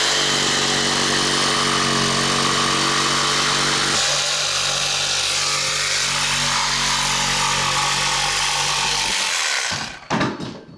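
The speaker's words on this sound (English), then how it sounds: "when you're cutting through your plywood, make sure that you do not cut into your rafters." A jigsaw cuts through plywood roof decking during a solar roof vent installation, a loud, continuous buzzing rasp that lasts about nine seconds before stopping, followed by a few clattering knocks.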